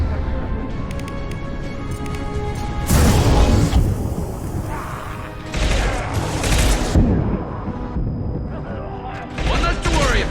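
A high impact weapon shot in the sci-fi game Mass Effect 2 goes off in heavy bursts with booming blasts and sharp crackling, between stretches of mechanical rumble, loud and close, with voices mixed into the combat.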